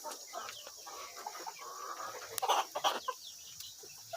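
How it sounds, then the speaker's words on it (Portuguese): Hens clucking softly in a backyard chicken coop at laying time, a few short close clucks scattered over quiet ambient background. "mais uma galinha que tá pondo."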